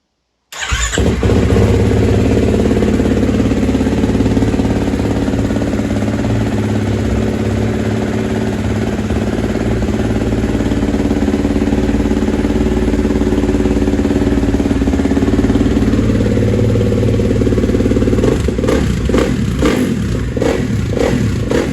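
A 2019 Kawasaki KXF 450 motocross bike fires up abruptly and runs loud and close, a steady single-cylinder idle with small blips of revving, ending in a few stuttering, clattering pulses.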